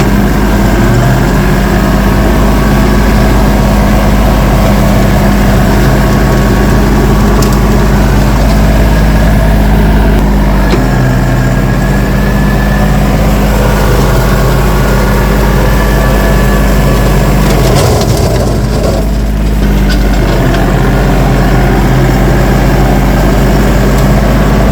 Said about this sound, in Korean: 이렇게 트랙터 제초기로 제초 작업하는 거는 뭐